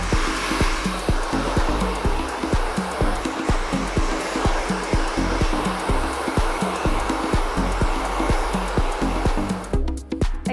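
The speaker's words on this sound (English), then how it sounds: "So then we'll start off with power drying the hair." A hair dryer power-dries hair styled with extra-strong mousse, blowing a loud, steady, close whir for the whole stretch. Near the end the blower cuts out abruptly.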